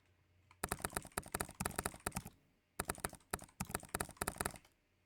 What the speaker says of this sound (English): you can hear the keyboard tippy-tappy sounds